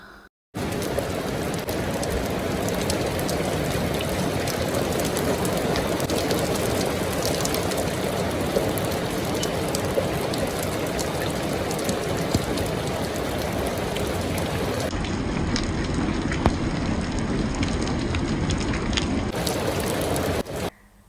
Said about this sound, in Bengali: অনেক দিন পর এমন জোরে বৃষ্টি দেখলাম